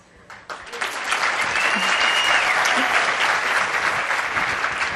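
A studio audience at a conference breaks into applause that swells within the first second and holds as dense, loud, sustained clapping until the end.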